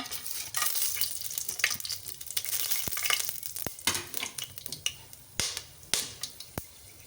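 Onion and green chili fry in ghee in a pan for tomato bath, a steady crackling sizzle broken by sharp spoon scrapes and clacks against the pan, growing more frequent toward the end.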